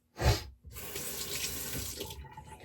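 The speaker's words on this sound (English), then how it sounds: "Keep wetting the brush." Water runs from a tap to wet a shaving brush, a short gush followed by a steady close stream into a sink that trickles off near the end, with no speech.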